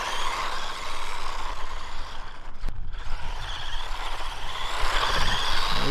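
A UDIRC UD1601 1/16-scale RC mini drift truck runs at full speed, its small electric motor giving a steady high-pitched whine with a faint hiss, fairly quiet and alone.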